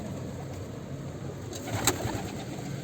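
Mardin pigeons coo softly in a loft, low murmuring calls beneath a constant background hum, with a brief sharper sound near the middle.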